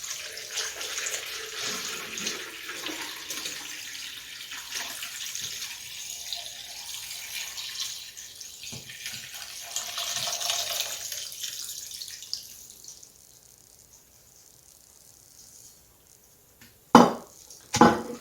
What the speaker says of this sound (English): So you just pour this through the strainer so you can collect your grains.